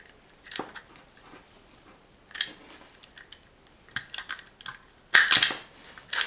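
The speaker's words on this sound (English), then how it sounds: "You can have the cable" A Parkside wire stripper's built-in cutter snipping through a cable, giving a few sharp close clicks and crunches spread out, ending in a louder cluster of snaps, with no voices.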